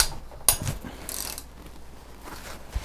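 A socket ratchet cracks loose the top-end engine bolts on a Honda CB350 motorcycle: a sharp metallic snap, then a few sparse mechanical clicks and light rubbing in a quiet workspace.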